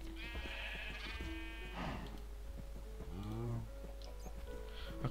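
Cows in the Minecraft video game low at a moderate distance, a few drawn-out, pitch-sliding calls spread over a few seconds against a steady low game background, with no talking.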